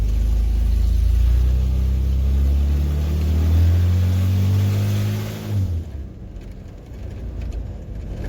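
A 1995 Ford F-150 pickup engine with the exhaust cut off and open manifolds revs loudly and close, its pitch climbing in rising sweeps before cutting off abruptly near the end, leaving a quieter low rumble.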